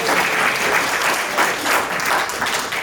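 Applause from an audience at a church celebration, a steady wash of many hands clapping close by with no talking over it.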